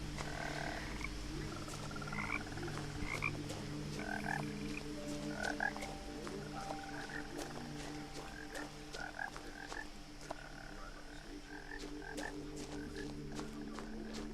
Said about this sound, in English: I can't believe they put those noises in and didn't show me a single frog